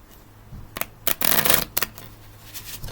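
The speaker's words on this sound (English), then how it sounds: "I'll give the deck a shuffle" A deck of cards is riffled and shuffled in a few quick bursts, close up, with brief pauses between the crisp fluttering snaps.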